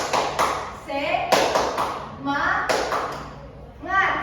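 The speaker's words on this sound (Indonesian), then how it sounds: "Tepuk semangat." Children clapping a short rhythmic 'tepuk semangat' chant in a fourth-grade classroom, a few bursts of claps mixed with young voices and an adult teacher's speech.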